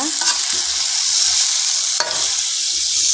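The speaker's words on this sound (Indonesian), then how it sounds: "kita oseng-oseng dulu" Beef tongseng ingredients stir-frying in a hot pan, a steady loud sizzle with scraping stirs near the start and around the two-second mark, no talking.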